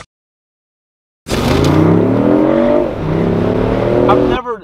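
A 2006 Scion tC engine revving hard after a moment of silence, a loud, close, sustained rising drone that dips once and climbs again before cutting off.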